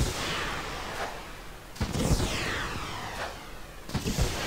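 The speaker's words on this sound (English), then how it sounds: "and you'll set off your fireworks" World of Warcraft fireworks launch in a game, with several sharp popping bursts and whooshing crackles spaced about a second apart over a steady background hiss.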